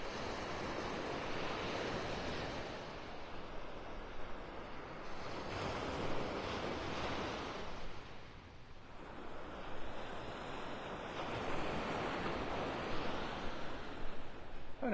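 Ocean surf rolls in steadily at Delnor-Wiggins beach in Naples, with gusting wind buffeting the microphone; broad, continuous wash swells and eases in waves, close and fairly loud, with no voices.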